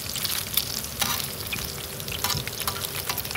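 Bacon crackles and sizzles in a pool of grease on a roadside camp stove, with faint continuous spitting and occasional scraping or stirring sounds, fairly quiet and close.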